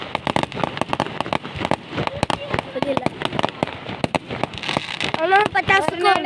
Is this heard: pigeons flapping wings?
no